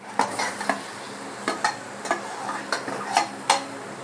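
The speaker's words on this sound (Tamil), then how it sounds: "இதோட போட்டு நல்லா கிண்டி விடுங்க ஃப்ரெண்ட்ஸ்" Carrots, beans and mashed green peas stirred in a pan, a spoon scraping in a steady series of sharp, close clicks and scrapes over a faint sizzle.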